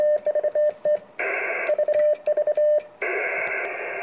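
Rapid Morse code beeps sent on a Vibroplex semi-automatic bug key with added weight, in a steady tone, with quick strings of dots broken by longer held dashes, sent in brisk bursts with no talking.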